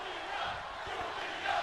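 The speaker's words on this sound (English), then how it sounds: "You hear the crowd tonight chanting for Giulia" A wrestling arena crowd in the video game WWE 2K26 roars and chants in a dense, steady wash of voices at the start of a women's match, fairly loud and continuous throughout the short stretch.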